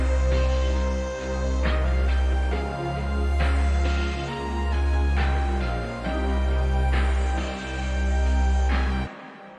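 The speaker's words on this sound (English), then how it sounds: "I found these 2 drum loops from Splice and added some effects to it" Two layered drum loops from a sample library, processed with effects and mixed over a melodic sample, pulse steadily with deep booming low hits and sustained harmonic tones, loud and continuous before stopping abruptly near the end.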